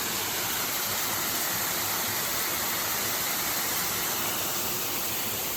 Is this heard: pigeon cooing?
no